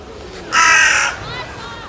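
A crow on a beach in Odesa gives one loud, harsh caw close by, followed by fainter calls, with a voice heard faintly around it.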